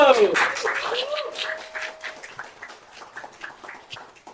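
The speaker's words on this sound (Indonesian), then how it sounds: "Nunas, tepuk tangan dulu." A small audience at a Balinese talk session on marriage and divorce claps: scattered, light handclaps that start fairly strong, then thin out and fade, with a voice speaking briefly at the beginning.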